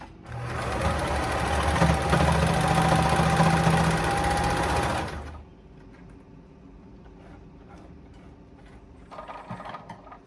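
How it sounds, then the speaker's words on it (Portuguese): A sewing machine runs steadily for about five seconds, closing the tip of a fabric cactus with a loud, continuous mechanical whir, then stops, leaving quiet room noise and a faint handling sound near the end. "Vou fechar na máquina de costura agora a ponta do cactus."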